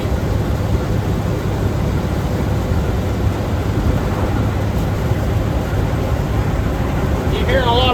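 An 81-year-old army truck with a flathead engine and its gears, driven in 25-degree cold, makes a loud, steady droning rumble throughout, with a brief rising whine near the end.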